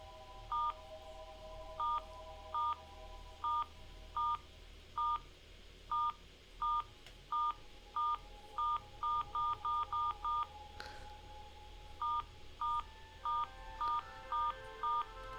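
A telephone number being dialed in the horror video game Your House: a long run of single touch-tone beeps, some evenly spaced and some in quick clusters, clear over a faint low ambient hum, with no talking.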